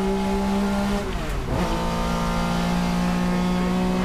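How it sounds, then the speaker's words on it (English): A 1967 Porsche 911 SR race car sweeps past at a vintage race reunion, engine note loud and steady, swelling as it nears and dropping in pitch as it pulls away. "the 67 Porsche 911 SR"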